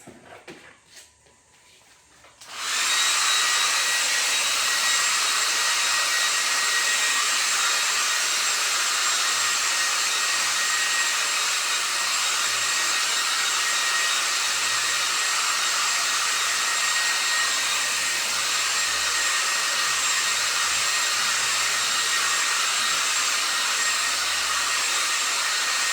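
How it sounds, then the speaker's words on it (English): A hair dryer blows steadily on a wet painting, starting abruptly after a brief quiet moment and holding a loud, even whoosh for the rest of the time, with no talking. "We'll blow dry that for a second"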